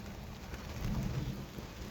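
Steady rain falls outdoors, a faint, even hiss of drops with a soft low rumble beneath and no voices.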